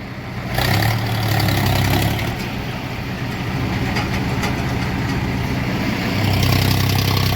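Tractor engine running steadily nearby, a loud continuous low throbbing drone that swells slightly at the start and end.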